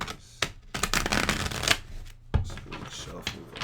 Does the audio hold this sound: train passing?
no